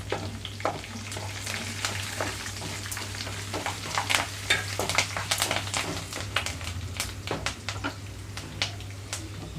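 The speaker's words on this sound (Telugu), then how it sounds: "ఇప్పుడు ఇందులోనే కరివేపాకు రెమ్మలు కూడా వేసుకుంటున్నాను" Curry leaf sprigs crackle and sizzle in hot oil tempering for upma, with dense popping and spitting and scattered stirring clicks over a constant low hum.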